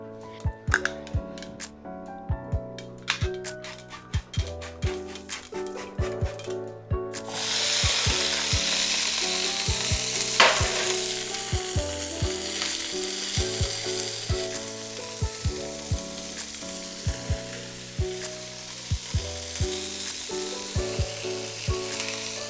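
Serrano chili and sliced garlic sizzle steadily in a hot skillet. Sparse clicks and light stirring come first, then a loud, continuous frying hiss sets in and holds to the end.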